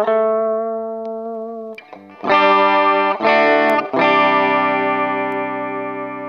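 Clean electric guitar tone through a Cuvave Cube Baby multi-effects pedal with echo, a sustained chord ringing out, then several strummed chords with trailing repeats, loud and close with no talking.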